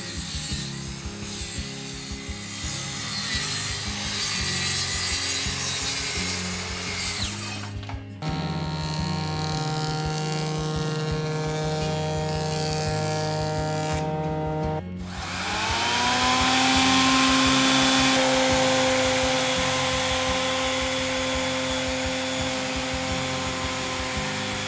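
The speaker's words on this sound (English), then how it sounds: "I cut the first board precisely." A handsaw cuts through a wooden barge board for a handmade woodshed, with steady rhythmic rasping strokes, close and loud. It pauses briefly twice, then resumes with a tonal ringing grind.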